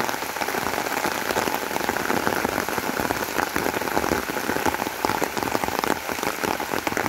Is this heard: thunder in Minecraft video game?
no